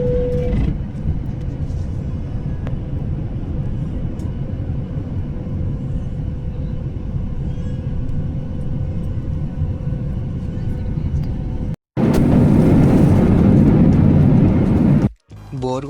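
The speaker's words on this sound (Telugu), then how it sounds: "మన ఫ్లైట్ అయితే స్టార్ట్ అయిపోయింది. రన్వే మీద ఫాస్ట్గా వెళ్తుంది. ఒకటేసారి మనకి గాల్లో టేక్ ఆఫ్ అయిపోతుంది." Passenger jet departing India for Germany, heard from inside the cabin: a loud, steady engine roar and rumble builds during the takeoff run and climb, with brief breaks near the end.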